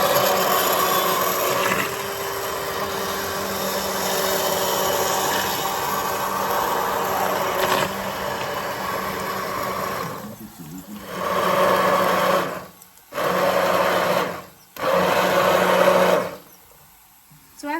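An immersion blender purees lentil curry, whirring steadily for several seconds, then stopping and restarting in short bursts, its motor drone thickened by the churning food.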